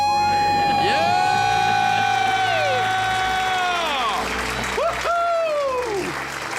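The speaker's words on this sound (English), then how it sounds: "The family is cheering her on right now." A family and audience cheer loudly and continuously, with shouts and excited whoops rising and falling under bursts of applause and voices.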